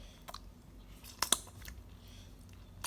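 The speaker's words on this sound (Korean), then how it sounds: "수제 고추장이라는데 한번 먹어보겠습니다" Quiet mouth and chewing sounds as someone tastes homemade gochujang chili paste, with a couple of sharper clicks near the middle over a low, steady room background.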